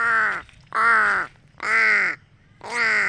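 Pet crows give four loud, harsh caws in an even rhythm, each separated by a short pause, close by and with no talking.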